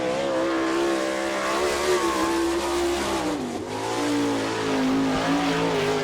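Sprint race car on a Maxim chassis screams through a qualifying lap at Attica, Ohio, its engine holding a loud, steady high-rpm wail with a brief dip and recovery midway, no talk over it.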